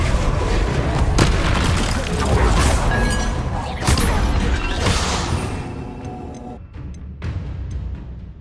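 Spell impacts from Hogwarts Legacy land as a dense run of heavy booms and crashing bursts, loud and close, with sharp hits near one, four and five seconds before the blasts thin out and fade toward the end.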